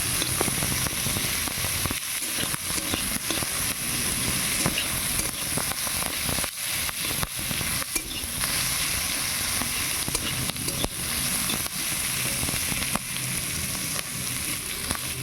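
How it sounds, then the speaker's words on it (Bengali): Chopped onions fry in oil for an egg masala curry, giving a continuous, close, loud sizzle with crackling pops and occasional stirring scrapes. No one talks. "পেঁয়াজ কুচিটাকে একটু লাল লাল করে ভেজে নেব।"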